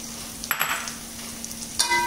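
Green chilies frying with golden, softened onions in a pan give a low steady sizzle, with a couple of brief clinks of a spoon or utensil against the pan.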